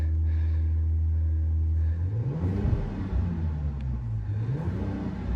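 A RAM 1500 pickup's engine idles with a low rumble, then revs in two deep, throaty swells through a Flowmaster Hurricane aftermarket muffler, loud and close, with a muffled exhaust tone.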